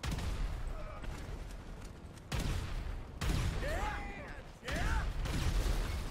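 Bursts of Grand Theft Auto V gunfire crackle in noisy clusters amid mechanical clatter and whooshing effects, fairly loud and continuous.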